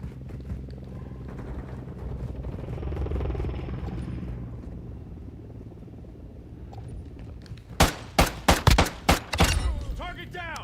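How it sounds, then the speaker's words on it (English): A helicopter in Call of Duty Modern Warfare II arrives with a rising rotor rumble that swells and then fades, followed by a quick burst of sharp gunfire shots near the end. "Friendly Overwatch helo in."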